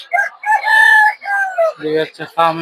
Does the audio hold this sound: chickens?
yes